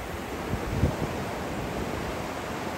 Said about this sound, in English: the waves are huge